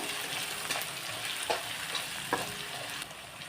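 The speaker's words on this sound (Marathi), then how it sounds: "आता हे थोडंसं आपण परतून घेऊया गॅसची आज कमीच ठेवायची आहे आपल्याला" Garlic and ginger sizzle steadily in a pan over low heat, a continuous frying hiss with a few soft stirring scrapes and clicks throughout, close and moderately quiet.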